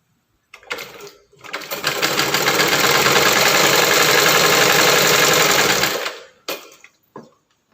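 A sewing machine stitching a churidar runs steadily and loud for about five seconds, framed by a few short stop-start bursts of stitching.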